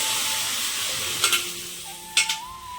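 Asafoetida and dal sizzling in hot oil in a pan as they are stirred, a steady hiss with two brief bursts of scraping or spitting, close by and alone.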